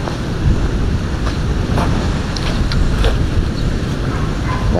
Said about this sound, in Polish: Patrzcie, jakie piękne morze.